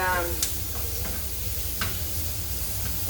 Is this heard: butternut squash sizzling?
yes